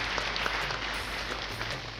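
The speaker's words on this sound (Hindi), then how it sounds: "जरा जोरदार तालियां बजाइएगा।" A short burst of faint, distant applause comes from an audience welcoming Sunil Bhaiya at a kalash sthapana ceremony on Guru Purnima.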